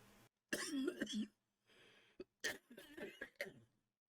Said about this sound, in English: that cough was, I was trying to hold it off.